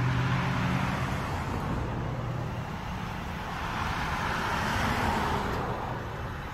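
Steady midday traffic on a suburban road in Rancho Penasquitos, with cars passing in a continuous, fairly close roar and no talking.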